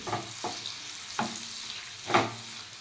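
Gentle sizzle of onions frying in a pan, broken by three scraping stirs of a spoon, with no voices.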